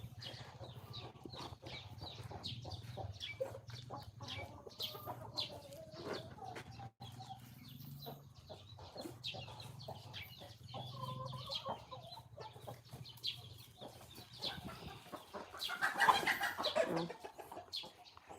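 Chickens cluck in short, scattered bursts at a low level, with bird calls mixed among faint background noise and a louder rustling flurry near the end.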